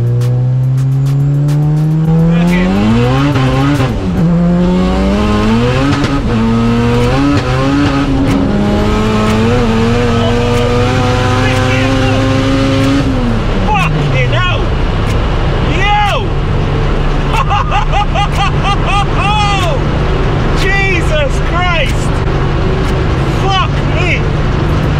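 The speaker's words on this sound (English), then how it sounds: "Should we go for a little third gear pull?" A 1000bhp Honda Civic accelerates hard in third gear, the engine note climbing steadily and loud up close. It breaks off into lower rumble and tire noise, with people talking and laughing over it.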